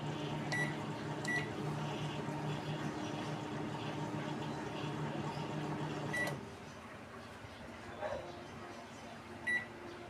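A microwave oven hums steadily after its start button is pressed, a low continuous drone with short electronic beeps near the start and end, the hum cutting off partway through.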